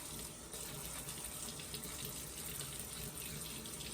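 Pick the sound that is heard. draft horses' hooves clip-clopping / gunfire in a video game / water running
water running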